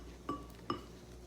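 Two light clinks ring out as a utensil taps a bowl while a homemade bouncy ball mixture is stirred, each contact quick and faint in a quiet room.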